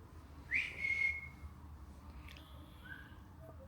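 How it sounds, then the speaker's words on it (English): A faint whistle in a former funeral parlour, a short rising tone with a brief sustained note and a softer second whistle later, over steady low background rumble. "a whistle."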